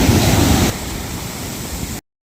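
Sea waves rolling in during the southwest monsoon, where a boat sank in rough water: a steady, loud wash of surf that swells heavily at first, then settles into a softer continuous rush before cutting off.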